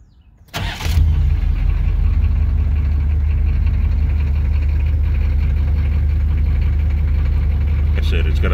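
A 1985 Oldsmobile Cutlass Supreme diesel with 121,000 miles cranks briefly, catches, and settles into a loud, steady, rumbling idle heard up close.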